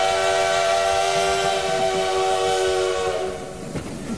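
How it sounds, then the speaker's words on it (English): A special train crossing Wyoming in 1892 sounds a long, loud, steady whistle, sustained for several seconds and then dropping away with a rumble near the end. "a special train was making its way through Wyoming."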